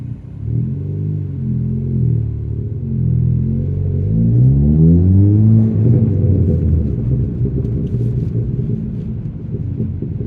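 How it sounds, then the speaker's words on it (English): A loud tuned exhaust on a Ford Fiesta ST MK7 HP300 hatchback drones and rumbles close by, rising in pitch as the engine revs, then settling back to a deep burble. "I'm not even putting my foot down at the minute and that exhaust is loud."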